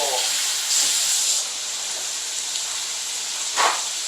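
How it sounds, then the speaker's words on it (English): A steady, fairly loud sizzling hiss from a hot pan cooking pesto pasta, with a brief swell and a faint thump near the end. "you hear the sizzle?"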